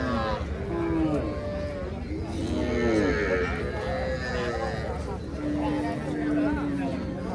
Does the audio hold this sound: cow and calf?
yes